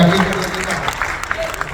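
An audience at an event breaks into brief applause, a dense burst of clapping that blends with a voice speaking over it.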